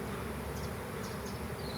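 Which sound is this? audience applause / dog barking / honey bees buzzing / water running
honey bees buzzing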